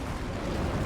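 An enemy blows up in Elden Ring's rot swamps, a dense, loud, sustained roar of explosive rumble filling the brief moment with no gaps.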